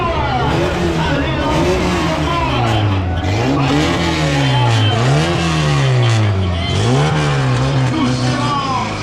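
Cars styled after cartoon vehicles parade at a stunt show in Amilly, their engines loud and close with rising and falling revs as they drive past, a voice blending in over the motor noise.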